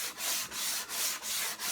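Hand sanding a second layer of Bondo body filler with 180 grit paper, close rhythmic rasping strokes in a steady back-and-forth of about four passes.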